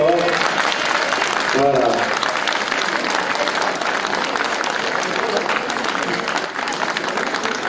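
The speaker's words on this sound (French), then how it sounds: "de les applaudir très très fort." An audience claps steadily throughout, a dense wash of applause with a brief spoken word near the start.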